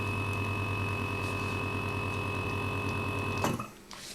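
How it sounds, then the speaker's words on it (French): A vacuum packing machine pulls air from a bag at full power, giving a steady close mechanical hum that breaks off abruptly near the end as the sealing finishes. "Elle soude."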